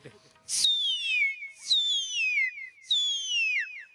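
A voice imitates a firecracker whistling before it bursts at a comedy show: three rising-then-falling whistled glides, each starting with a short breathy burst, close and clear with no other sound.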